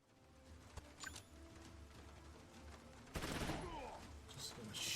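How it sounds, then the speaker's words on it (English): Gunfire from the Troubleshooter: Abandoned Children tactical RPG: a burst of shots erupts partway through, loud and dense against quieter game background sounds, with a few earlier isolated clicks. "Just going to shoot off these, shoot off my guns."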